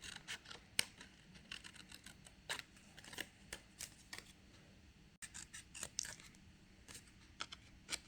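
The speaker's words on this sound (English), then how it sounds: "I'm just going to cut out quickly, and then I can smoothen it out and cut the edges" Scissors snip through paper while a fish stencil is being cut out, giving a steady run of short, faint, close crisp snips and rustles at an uneven pace.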